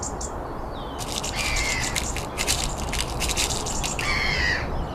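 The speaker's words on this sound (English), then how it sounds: "It's like seagulls have decided to take off." Seagulls call in bursts of squawks and cries as they take off over an outdoor shooting range, heard against a constant loud rush of wind.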